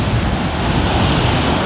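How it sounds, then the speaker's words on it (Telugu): Ocean waves break and wash up the shore at Coco Beach in Dar es Salaam, Tanzania, a loud, continuous surf roar close by with wind noise on the microphone and no talking. "బట్ అలలు అయితే ఇక్కడ వరకు వస్తున్నాయి"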